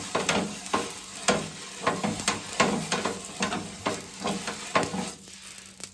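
Oil sizzles on a pan over low gas heat as a Konkan-style ghavane crepe of rice flour and salt fries, with a steady hiss broken by repeated scraping and stirring knocks close by, no voices.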